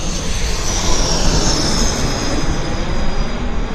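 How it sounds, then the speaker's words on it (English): A Q400 turboprop airliner on approach passing directly overhead, a loud, steady roar with a high propeller whine that fills the whole stretch, close and unbroken. "we got a Q400 on approach right now. Jazz Flight 265 coming in right over my head"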